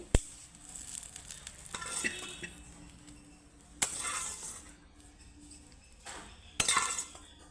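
Chutney with tempering, tadka, sizzles in a pan, close scrapes and utensil clinks over a soft background hiss, with three sharp louder bursts of sizzle and clatter spaced out across the stretch.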